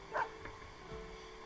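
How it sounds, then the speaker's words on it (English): A white dog in the Persona 4 Arena fighting game's story mode gives a single short, faint bark over a quiet, low background. "Snowy barks once, as if comprehending its name."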